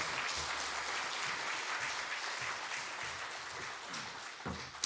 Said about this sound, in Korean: 나오실 때 여러분 큰 박수 한번 보내주시기 바랍니다